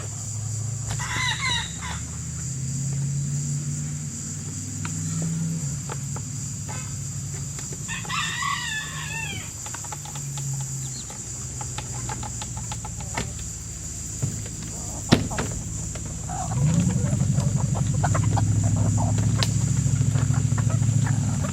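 Backyard chickens give a few short, near clucking calls at breakfast feeding time over a steady background hum, with a louder low rumble joining near the end.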